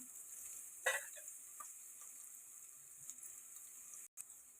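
Onions frying in a pan for Telangana-style bagara rice give a faint, steady sizzle, broken by a brief louder stir and a few soft clinks.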